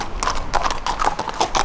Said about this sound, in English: There's some horses going down the road.